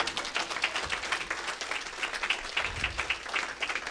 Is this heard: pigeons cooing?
no